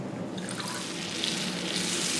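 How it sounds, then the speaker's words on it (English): Syrup draining from an opened can of fruit cocktail, a continuous trickling pour of liquid for a couple of seconds, close and steady with no voices. "I want to drain the water, the syrup, or the juice"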